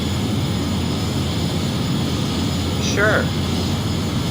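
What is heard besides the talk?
airliner engines in a flight simulator video game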